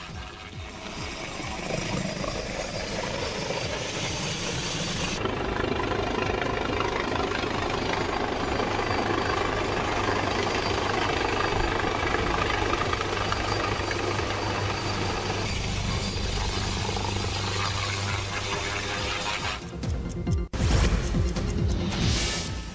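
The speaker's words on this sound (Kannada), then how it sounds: "ಪ್ಲಾಸ್ಟಿಕ್ ಚೀಲ ತೆರವುಗೊಳಿಸಿದಂತ ಬಳಿಕ ಹೆಲಿಕಾಪ್ಟರ್ ಲ್ಯಾಂಡಿಂಗ್ ಮಾಡಲಾಯಿತು" Helicopter landing at an open ground after plastic bags were cleared, a continuous loud rotor roar with steady droning tone, shifting and thumping with gusty bursts near the end.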